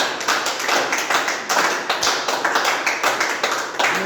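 Congregation at a church service clapping in steady rhythmic unison to acclaim the Lord, a dense, even beat of many hands repeating several times a second, loud and close, with no talking.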